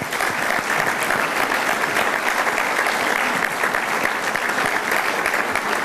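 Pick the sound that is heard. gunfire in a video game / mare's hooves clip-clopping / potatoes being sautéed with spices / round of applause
round of applause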